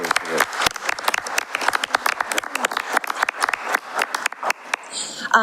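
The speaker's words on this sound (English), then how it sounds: "Give her a big round of applause." Audience applause for a city board chair at a city commission meeting, a dense run of clapping lasting several seconds, with a voice speaking briefly near the end.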